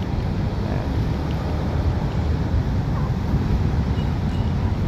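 Wind blows steadily at a seaside baywalk on Manila Bay, a continuous broad rush and rumble buffeting the microphone, loud throughout with no talk.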